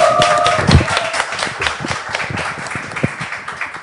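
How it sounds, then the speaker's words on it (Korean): A small cafe audience claps during a live broadcast recording, a brief burst of close hand claps that thins into scattered taps and fades out. "박수 좀 주세요 여러분."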